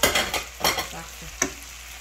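Rice being stirred and fried in a pot with shrimp, heard as short bursts of close scraping and sizzling with a clink near the end.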